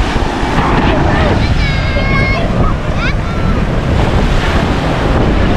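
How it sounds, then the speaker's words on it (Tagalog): Strong wind roars and buffets the microphone at close range in Rosario, Cavite, a loud constant rush with surf in the background and a brief faint voice. "ang lakas po ng hangin"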